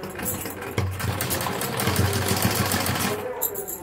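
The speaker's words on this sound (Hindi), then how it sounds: "इसकी किनारी पर भी इसी तरह से एक सिलाई लगा लेंगे" A sewing machine runs steadily as it stitches along the edge of a plazo pant. Someone talks over the motor's hum throughout, and the machine stops near the end.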